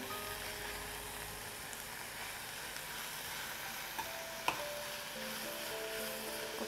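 Onion, curry leaves and grated carrot sauté in a pan with a steady, soft sizzle and occasional light stirring clicks, continuous and fairly quiet throughout with no talk.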